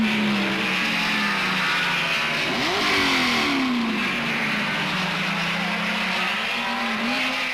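1967 Formula 1 racing cars at the British Grand Prix roar past, a loud engine drone sweeping in pitch as cars rush by and pull away, with a brief upward rev midway and steady track noise throughout.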